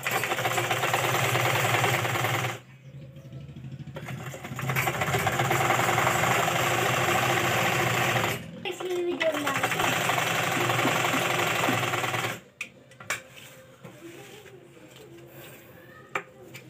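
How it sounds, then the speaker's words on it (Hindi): A sewing machine stitches a finishing seam on kurti cloth, its motor running in loud, steady runs, stopping briefly and starting again, then ending with a few quieter clicks. "यहाँ फिनिशिंग वाली एक सिलाई लगा लेंगे, जिससे यहाँ पे बहुत अच्छी फिनिशिंग आएगी।"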